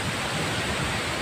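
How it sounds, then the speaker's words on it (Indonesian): Waterfall at Renah Sungai Besar pours with a steady, full roar of rushing water, close and constant throughout, with no voices. "dapat salam dari air terjun renah sungai besar"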